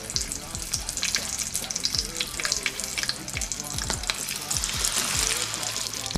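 Rings of onion dipped in batter deep-fry as bajji in hot oil, giving a dense, loud, continuous crackling sizzle with clustered pops, up close and without voices.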